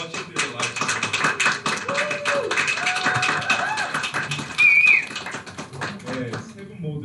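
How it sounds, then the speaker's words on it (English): Wedding guests give applause for singers trained in opera music, a run of scattered claps mixed with chatter and a voice over a microphone. "Another applause for Minji and her friends"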